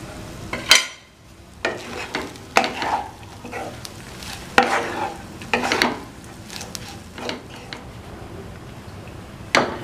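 A spoon stirs betel leaf rice seasoned with pepper in a pan, with a series of irregular scrapes and clinks against the metal over a quiet background, close and fairly soft, no speech.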